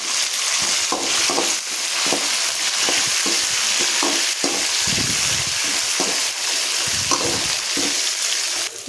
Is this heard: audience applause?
no